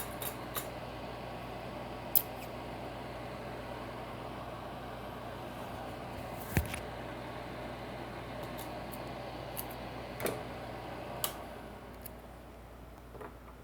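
Tape is handled and snipped with scissors at a workbench during a Game Boy Micro USB-C installation, heard as a few sparse, faint clicks and snips over a steady background hum, with no talking.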